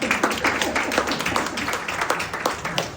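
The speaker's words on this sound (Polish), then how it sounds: "Wspaniały lekarz, brawa dla niego." Audience claps for a doctor being honored on stage, a dense, fairly loud patter of applause with sharp individual claps throughout.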